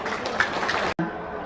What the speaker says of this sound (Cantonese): 所以俾啲掌聲鼓勵你自己